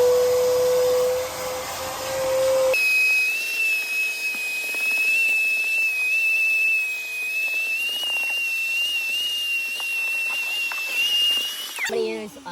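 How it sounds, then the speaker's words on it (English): During interior car detailing, a vacuum cleaner fitted with a crevice tool runs at close range with a loud, steady whining suction that shifts pitch as the nozzle works, and a voice talks over it. "I'm gonna use my crevice tool, let the air compressor build up strength, let it warm up, and I'm gonna vacuum up what we just air compressed"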